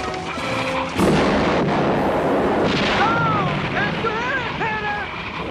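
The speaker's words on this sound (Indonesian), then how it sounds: "Brett mengerahkan meriam ke punggung bukit untuk melakukan penyerangan" Heavy cannon booms thunder close by from a ridge, a sharp blast followed by rolling rumble, while whistling tones and voices sound over the din.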